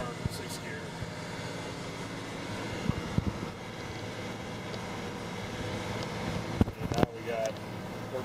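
A John Deere 9R Series tractor pulls a scraper at full throttle in sixth gear, its engine a steady broadband drone throughout, with a few knocks and clunks over it and someone talking from the cab.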